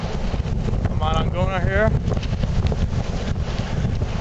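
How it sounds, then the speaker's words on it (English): Strong wind gusts roar into the microphone during a December blizzard, a constant heavy buffeting rumble with no letup. A voice speaks briefly over it. "there's 50-mile-an-hour wind gusts"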